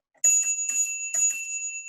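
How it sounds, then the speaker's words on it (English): A bell rings three times in quick succession, each a bright, sustained metallic ding with a lingering ring, loud and close against otherwise silent background. "Like this bell,"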